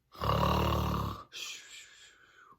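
A person imitates a loud, rasping snore, one long throaty inhale followed by a softer breathy exhale, close and alone.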